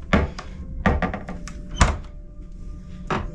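A refrigerator door in a cruise ship suite opens and shuts with several close, dull thunks and rattles over a few seconds, with no talk.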